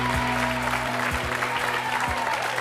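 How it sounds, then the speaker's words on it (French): Studio audience applauding a magician on a French TV show, a continuous dense round of clapping under a low steady hum, loud and unbroken throughout. "Je vous demande de l'applaudir."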